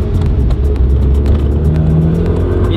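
Nissan Silvia S15 drift car with tank coilovers, its engine droning and rumbling steadily at close range, with low harmonic bands rising slightly as it revs gently.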